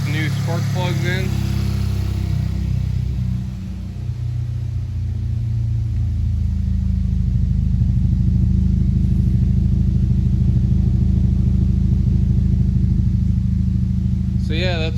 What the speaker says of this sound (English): Idling nice and smooth with the new spark plugs in.